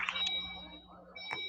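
Electronic tones sound at the start and again near the end, a short burst of thin, high pitched beeps at moderate distance over a quiet background.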